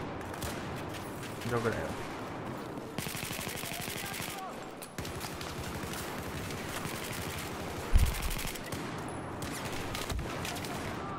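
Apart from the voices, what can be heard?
gunfire in the video game Battlefield 4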